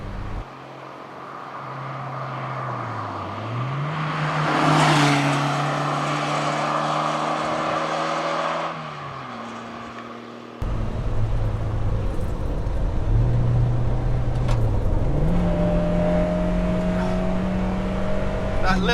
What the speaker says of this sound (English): That little engine spinning up is just lovely.